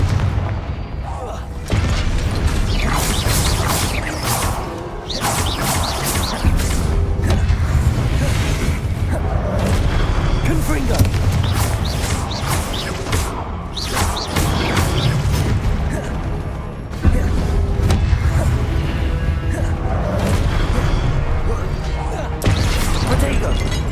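Repeated Confringo spell explosions in Hogwarts Legacy: loud booming blasts and crashes burst out again and again in close succession over a constant rumble of game noise, with a voice talking throughout.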